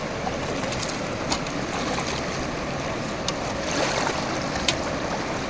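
The fast-flowing Alaknanda river rushes in a constant broad roar of churning water, loud and unbroken, with a few faint clicks rising above it.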